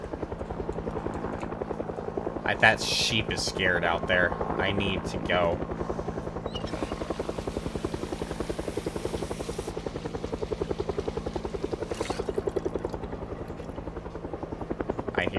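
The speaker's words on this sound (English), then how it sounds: "it's really hard to tell with this fucking chopper" Helicopter in a zombie video game flying overhead, a steady rotor chop pulsing throughout at close range, with someone talking over it in the first half.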